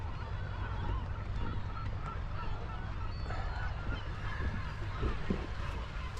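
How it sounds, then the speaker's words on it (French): Gulls call repeatedly over a harbour at sunrise, honking cries scattered across a constant bed of wind and water noise, fairly close and unbroken by talk. "C'est charmant, mais les mouettes."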